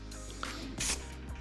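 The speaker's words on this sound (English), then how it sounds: "now I'm just gonna give this mold surface a slight spray" A brief hiss of spray is aimed at a carbon fiber mold surface to make it tacky, one short burst lasting a fraction of a second over steady background noise.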